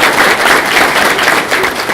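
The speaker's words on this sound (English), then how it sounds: "Please join me in giving them a round of applause" Loud, dense applause from attendees at a regional community outlook meeting, a continuous wash of clapping filling the room.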